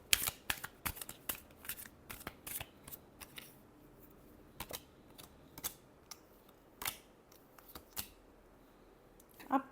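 Tarot cards are shuffled in a series of soft, quick riffles and flicks, close and fairly quiet, with short pauses between bursts.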